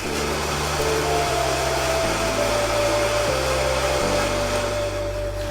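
A Vita-Prep 3 blender purees fresh mint leaves and peeled, seeded cucumber with a loud, steady motor whine. The pitch steps up and down several times as the load shifts.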